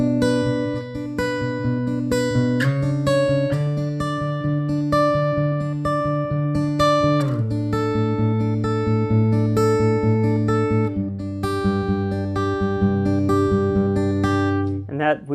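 An acoustic guitar rings out an octave melody lick from a worship song over sustained, full low chords, with steady, continuous, fairly loud playing throughout and a brief pause near the end.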